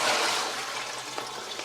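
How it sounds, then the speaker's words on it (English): Rinse water from soaked soybeans pours off in a steady, broad rush that slowly eases, close and fairly loud, with no voices. "So now we're gonna drain it."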